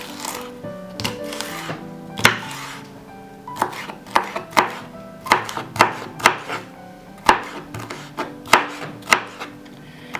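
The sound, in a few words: knife chopping bell pepper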